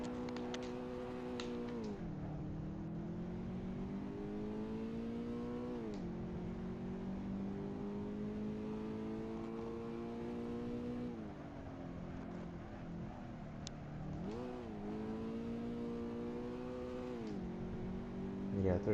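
Car engine in the Assetto Corsa driving game on the Akina downhill course, revving steadily and rising in pitch through repeated gear changes, with brief dips between pulls, loud and continuous for the whole stretch.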